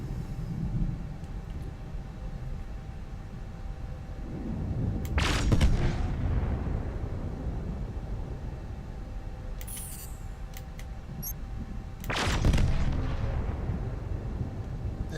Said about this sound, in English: Now let's try laser weapons.